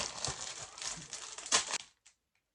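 Plastic packaging from a SHEIN haul crinkles and rustles up close, with a louder crunch near the end before it stops, and no talk.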